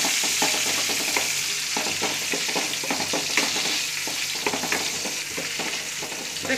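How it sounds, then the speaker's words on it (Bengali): Cashews and raisins fry in a pan for fried rice, a steady bright sizzle broken by rapid crackling pops and stirring scrapes, close and continuous throughout. "এবার দিতে হবে কাজু কিশমিশ, যেটা রাখা ছিল সেটা দিয়ে দিলাম। এটাকে একটু ফ্রাই করে নেব সামান্য 2-1 মিনিট।"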